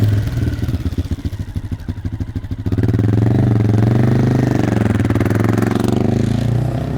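A Herald Brute 500 motorcycle engine accelerating hard, its loud, close exhaust note climbing steadily after a choppy, clattering start, with no voices over it.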